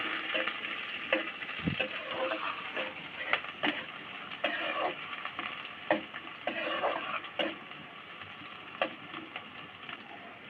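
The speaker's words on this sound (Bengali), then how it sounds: "এবার দিয়ে দেব কোচানো পেঁয়াজ। ভালোভাবে ভাজতে দেব।" Chopped onion frying in oil for a fish and bottle-gourd-greens curry, giving a soft, steady sizzle broken by frequent sharp clicks and scrapes of a stirring spoon against the pan, with no talking.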